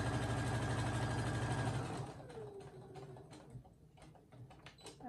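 A sewing machine back stitches along the edge of a kitchen towel, running steadily and loudly for about two seconds before stopping; faint clicks, cloth handling and snipping sounds follow.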